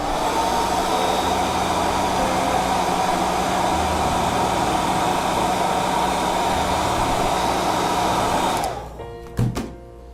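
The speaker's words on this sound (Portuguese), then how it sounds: "Seca com o secador nessa fase aqui" A hair dryer roars steadily at close range as it dries paint on a hand-painted teapot with wildflowers. The loud, even whoosh runs for several seconds, then switches off, leaving a couple of soft knocks.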